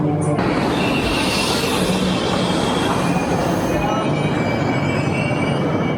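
Heard from inside a carriage, the Wawel passenger train runs from Wrocław to Zielona Góra with a loud, steady rumble and high wheel squeals, and voices are audible in the background.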